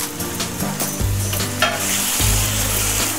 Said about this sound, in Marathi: पिस्ता, बदाम, काजू, हे चांगले एकजीव करून घेऊया।